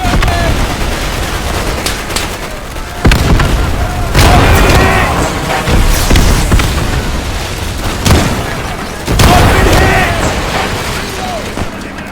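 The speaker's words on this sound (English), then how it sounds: "Grenade!" Grenade blasts in the World War II shooter Easy Red 2 during a Pegasus Bridge assault: several loud, booming explosions land a few seconds apart amid dense gunfire, with shouted voices over the battle.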